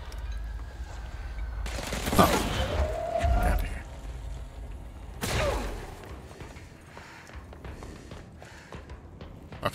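Gunfire in the video game Control comes in two loud bursts of shots with mechanical clatter between them, set against a low rumbling background, and a voice is heard along with it.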